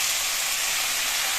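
Shredded cabbage drops into a hot karai for a Bengali cabbage bhaji, giving a loud, steady, breathy sizzle that holds evenly through the short moment with no voices.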